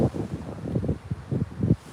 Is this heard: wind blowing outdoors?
yes